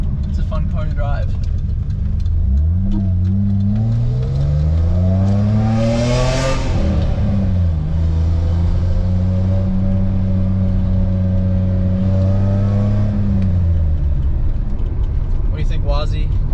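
A BMW E30 car engine revs up from idle, holds a steady higher pitch for several seconds, then drops back down, loud and close, with faint talk around it.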